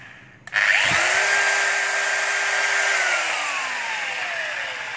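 Concrete-cutting power tool with soft start spins up from silence after a click, its whine rising smoothly to a steady loud pitch and then slowly sagging over several seconds, running alone close by.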